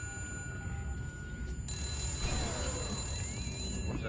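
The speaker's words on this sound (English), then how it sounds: "I have a phone ringing." A phone rings in a war video game, a faint, steady electronic tone sounding over low background rumble and ambient game noise.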